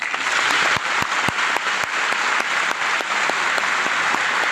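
Seminar audience at a career counselling event in Jammu clapping, a steady dense applause with sharp individual claps standing out, sustained and fairly close throughout.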